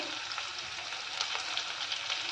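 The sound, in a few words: onions frying in a pan for tomato rice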